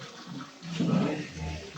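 Water running in a salon to rinse a hair protein treatment, a short close splash and gush that swells midway and then settles into a softer flow.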